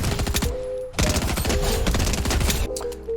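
Bursts of rapid video-game gunfire from a Fortnite aim-training map rattle in quick, repeated volleys, with short pauses between strings of shots.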